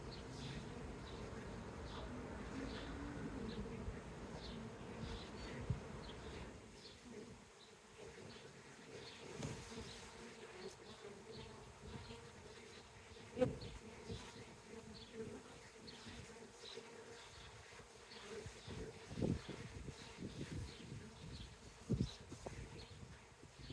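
Dense, steady buzzing from many honey bees close by in a hive of a rescued swarm, a continuous droning hum with occasional soft knocks and rustles.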